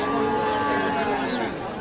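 A young Friesian or crossbreed bull calf lows close by amid the murmur of a busy crowd at Raniganj cattle market.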